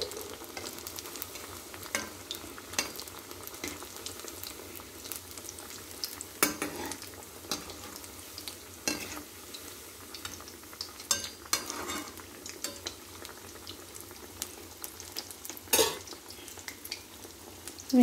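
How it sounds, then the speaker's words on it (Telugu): Elephant yam fritters fry in oil on a low flame with a soft continuous sizzle, punctuated by occasional sharp clinks and scrapes of a spoon against the pan, no talking. "వేగుతున్నాయండి"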